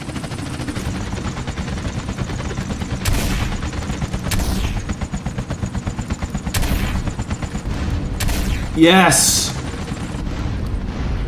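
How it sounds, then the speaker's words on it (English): Dense gunfire and explosive booms in a GTA San Andreas remaster roll continuously under excited talk, with a sharp blast near the end. "That is a good looking explosion."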